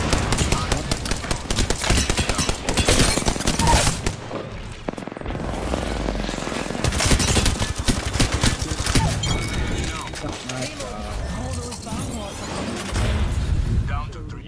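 Gunfire in Apex Legends during a ranked match: rapid automatic bursts and impacts, loud and dense, with a short lull midway, under a player's talk and game sounds.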